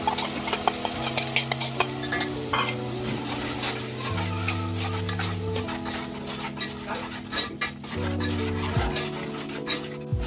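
Ground masala paste being stirred in hot oil for a chicken gravy, with repeated scraping and rubbing strokes over a soft sizzle, close and fairly quiet, background music running underneath.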